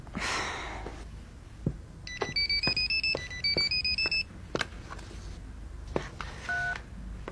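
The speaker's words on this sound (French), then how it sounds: "Non, Jennifer, c'est mon portable. ne réponds pas" A mobile phone rings with a repeated electronic beeping melody in bursts, fairly close, amid quiet room sounds and a few clicks, with no talk.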